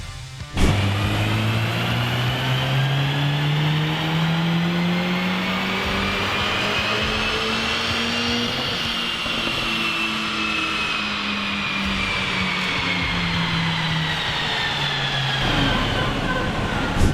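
A tuned Mercedes-Benz A45 engine revs hard on a dyno and steadily climbs in pitch under heavy load, a loud sustained drone that rises and then eases off near the end.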